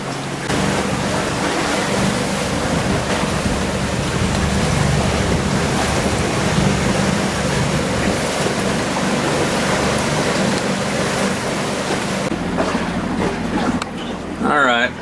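A houseboat cruises on Lake of the Arbuckles, with continuous wind buffeting the microphone and water rushing and splashing along the hull. Muffled voices sit low in the mix.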